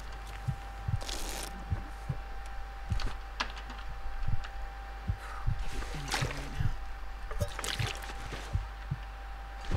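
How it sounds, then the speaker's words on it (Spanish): Heartbeat in The Long Dark survival game, a steady series of low thumps repeating roughly every half second under scattered clicks and crackles, with no voices. "No sé si escuchan esos latidos."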